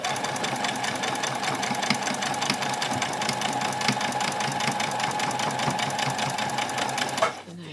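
A sewing machine runs steadily, back-stitching the bodice of a child's dress, a continuous close mechanical whir and rapid needle rhythm that stops abruptly near the end.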